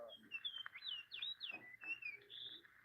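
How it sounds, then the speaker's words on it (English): Fox sparrow singing a bright, warbling phrase of sweet rising and falling whistled notes, clear and moderately close over a quiet background. "Now, I can listen to the fox sparrow"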